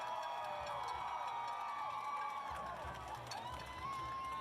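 A dense street crowd in Washington DC cheers and shouts on election night 2020, a sustained roar of many voices with whoops and scattered shrieks rising and falling throughout, loud and close around the listener.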